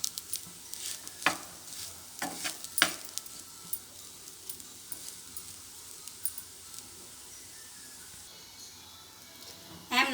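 Egg fried rice with green chilies frying in a pan, a steady low sizzle running throughout, broken by sharp scraping and clattering stirs clustered in the first few seconds and again at the end.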